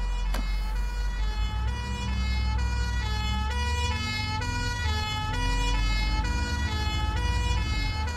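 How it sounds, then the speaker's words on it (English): In the bus simulator OMSI 2, a London fire engine siren wails steadily over a bus engine's low drone, its tones cycling in a regular repeating pattern for about eight seconds, loud and close. "I've got a fire engine in me."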